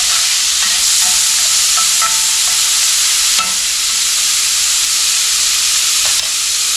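Bacon, onion and pepper sizzle steadily in a smoking-hot skillet of olive oil, a loud continuous frying hiss with occasional stirring clicks and pops, no voices.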